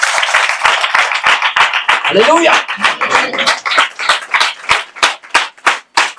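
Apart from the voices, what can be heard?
congregation clapping for Jesus Christ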